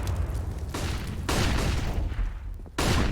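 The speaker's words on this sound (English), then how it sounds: "Grenade landing on Zeus" A grenade explodes in Counter-Strike on the Inferno map during a competitive match, loud booming blasts breaking through dense surrounding gunfire with several sharp bursts across a few seconds.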